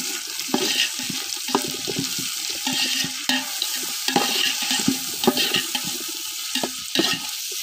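Onions and mint sauté in a pan for biryani, a continuous sizzle broken by repeated scraping and clacking as a spoon stirs the mix.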